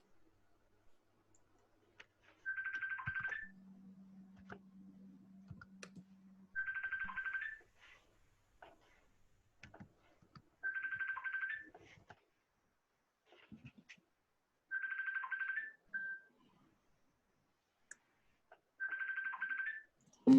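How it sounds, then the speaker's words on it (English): A phone ringing during an online class, five evenly spaced ring bursts about four seconds apart, fairly faint and with no talk over them. "Phone call or something."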